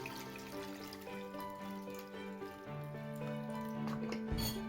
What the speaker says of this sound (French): il faudra frotter les haricots entre les doigts plusieurs fois et rincer de cette façon-là